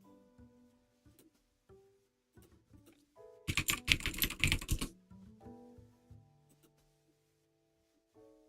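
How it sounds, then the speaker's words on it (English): Fast typing on a computer keyboard: a quiet scatter of clicks, then a dense rapid burst of keystrokes for about a second and a half before it settles back to sparse taps. "I think it's pretty normal to type this fast in Korean"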